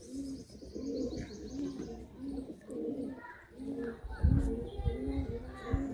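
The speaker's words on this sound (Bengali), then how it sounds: "সেই জোড়াটি আপনাদেরকে খাঁচার মধ্যে ছেড়ে শখ করাচ্ছি" Madrasi pigeons in a cage coo in repeated, rhythmic low phrases close by, with soft chirps and faint background voices around them.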